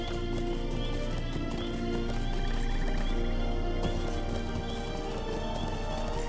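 Goat mount running in the online game Lord of the Rings Online, with steady rapid hoofbeats and an animal cry over a dense, loud game soundtrack throughout.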